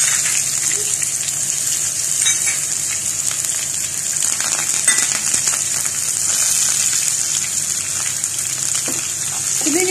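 Garlic, ginger, green chilli and curry leaves hiss in hot mustard oil with crackling mustard seeds while making pineapple pickle; a loud, steady, close sizzle runs unbroken throughout.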